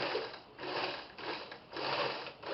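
A sewing machine runs a zigzag stitch through fabric in three steady bursts, its motor whirring up and easing back as the foot pedal is pressed and released, close and fairly loud with no talking.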